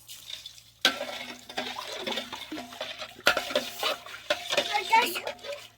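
A spoon stirs white kimchi brine mixed with sea salt in a bowl, giving repeated sloshing, scraping strokes in an uneven rhythm, with faint voices in the background.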